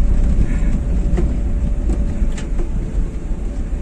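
A 1600 cc engine in a Suzuki Espass fitted with a Blackcore breather mod rumbles steadily at idle with a low, uneven throb. The sound is close and continuous, with no talk over it.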